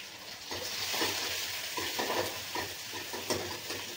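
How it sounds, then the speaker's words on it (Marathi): Onion frying in oil with crushed garlic and curry leaves in a pan, a continuous close, loud sizzle broken by repeated stirring scrapes, with no talking. "कांद्याला लाल होईपर्यंत चांगलं परतून घेणार आहे।"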